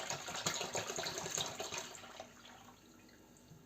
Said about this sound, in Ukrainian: Знову заливаю водою чисто, до чистої води